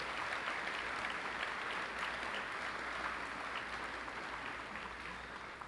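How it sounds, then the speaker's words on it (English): An audience at a high school commencement applauds students, a dense, steady wash of clapping that holds evenly throughout and tapers slightly near the end, heard from within the crowd. "Please give all these students a round of applause."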